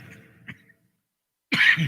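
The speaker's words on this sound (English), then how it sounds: "Sorry about this cough, y'all." A short, sharp cough bursts out near the end after a brief murmur and a moment of silence, close to the microphone, over a 2-meter amateur radio net.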